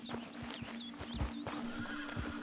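Horse whinnying in Red Dead Redemption 2, with several high neighs over a steady engine-like drone and repeated low hoof thuds and clip-clops throughout, loud and close.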